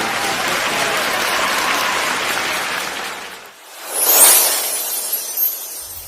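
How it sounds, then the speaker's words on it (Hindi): A large audience at an RCM 20th anniversary corporate event applauds for an award winner, a loud dense wash of clapping that fades out midway, followed by a brief rising swell of noise and scattered sounds. "जोरदार तालियां दोस्तों।"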